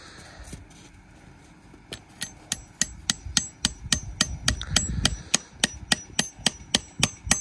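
Repeated sharp hammer strikes driving a metal tap into a maple tree, starting slowly then falling into a steady rhythm of about twenty blows, close and loud.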